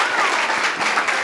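An audience at a film festival conversation event applauds an acting award, with a brief, loud, dense burst of clapping that carries steadily through the moment.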